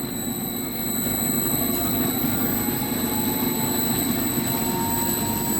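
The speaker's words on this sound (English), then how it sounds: "The motor is running." An industrial mill motor ramps up under a variable frequency drive, giving a steady, loud mechanical hum and whine that holds without a break throughout, with no talk.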